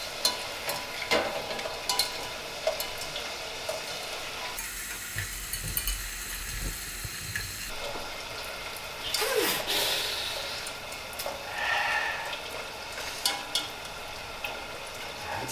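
Homemade tortilla chips frying in oil on a stovetop, giving a steady, close sizzle and crackle with occasional louder bursts of bubbling.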